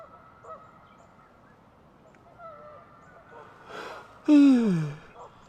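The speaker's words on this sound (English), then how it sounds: "like the sound of the geese" Geese honk at a lakeside camp in a rain storm, a soft call early on, then a loud, close, descending honk near the end over quiet ambient background.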